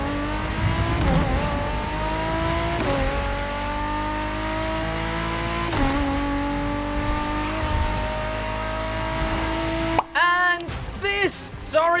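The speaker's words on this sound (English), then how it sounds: "This is the Ford GT police car stock." Stock Ford GT police car engine in the driving game The Crew, holding a loud, steady high rev with a few pitch swells, then sharp revving bursts near the end.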